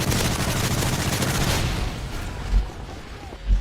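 Rapid automatic fire from the MP7 submachine gun in Call of Duty, a dense, loud stream of shots for nearly two seconds before trailing into quieter background noise with a couple of isolated thumps.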